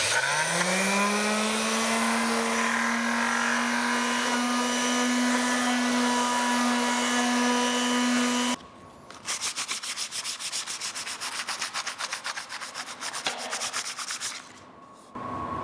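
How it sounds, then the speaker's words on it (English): Palm sander buffing wooden quilt rack pieces, a loud steady motor whine with harsh rubbing hiss that drops in level partway through and continues with a rougher, fluttering scrape. "we're going to be palm sanding all of our pieces"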